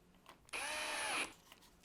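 A wood router cuts a rabbet in a board on a small sled with a sacrificial board, one short high-pitched whining burst of under a second, fairly close, with quiet before and after.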